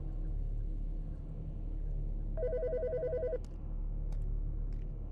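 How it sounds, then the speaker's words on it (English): A telephone rings in the Autopsy Simulator video game, one clear electronic trilling burst of about a second over a low ambient hum, followed by a few faint clicks. "The fucking phone."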